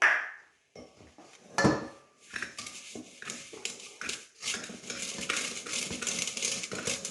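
Egg cracked into almond tart batter for a blueberry tart: a sharp tap of shell against a bowl rim near the start, then clinking of a utensil against the bowl and wet stirring sounds that continue steadily to the end.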